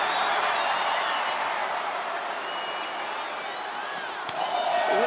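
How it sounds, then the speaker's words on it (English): Arena crowd at a WWE 2K25 wrestling match, a dense, steady roar of cheering and noise held loud throughout the short span, with a sharp thud or slam near the end. "Listen to this crowd."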